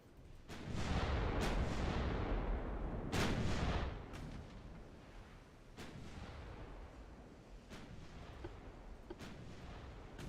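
Naval guns fire in the warship strategy game Ultimate Admiral Dreadnought: two heavy, booming salvos roll out loudly in the first few seconds, followed by fainter, scattered distant shots over a rumbling battle backdrop.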